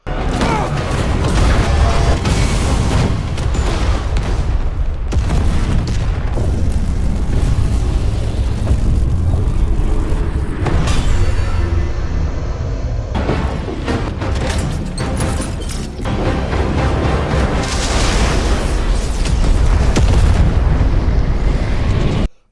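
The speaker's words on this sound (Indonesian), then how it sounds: "robot alien itu meledak dengan dahsyat hingga menghancurkan seluruh fasilitas tambang tersebut" Loud, continuous booming and rumbling blasts from an exploding alien robot destroying a mining facility in a film, dense and thunderous, with crashing bursts layered throughout.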